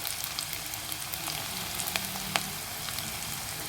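Garlic and ginger fry in hot oil for a Kerala-style mango pickle, giving a steady close sizzle with a few light crackles and stir clicks and no talking.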